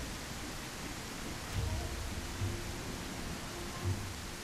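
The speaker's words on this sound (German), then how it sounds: "Der Regen ist halt richtig schlimm." Heavy rain in the survival dinosaur video game The Isle, a dense, even hiss of falling rain that fills the whole stretch, with a few low thumps rising briefly out of the steady wash and no talking.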